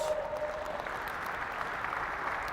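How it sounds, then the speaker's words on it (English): Faint, distant applause at a soccer coaching session, a soft steady patter of clapping heard from afar, with a brief tone early on. "Give them a nice round of applause."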